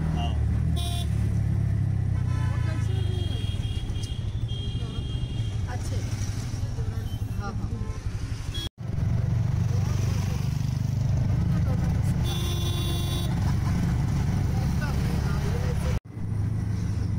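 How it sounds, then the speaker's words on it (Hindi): Road traffic on a highway between Khuldabad and Aurangabad, India, slowed in a jam: a steady low engine rumble with passing vehicles and occasional horns under people talking. "यहाँ रास्ते में कुछ ट्रैफिक जाम हो गया है"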